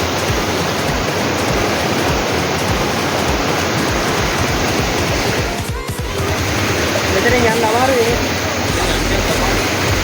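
A forest stream in Kandy, Sri Lanka rushes loudly and continuously, a dense close wash of flowing water, with a person talking briefly over it.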